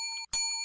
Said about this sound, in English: that's a double bell for the beginning